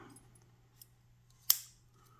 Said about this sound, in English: Got some scissors here.